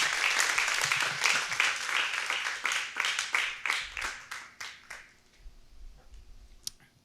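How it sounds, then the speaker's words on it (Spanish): A church congregation claps together for the Lord, a dense, lively burst of applause that gradually thins and fades out over several seconds, leaving a few scattered claps at the end. "Dele un aplauso al Señor entonces."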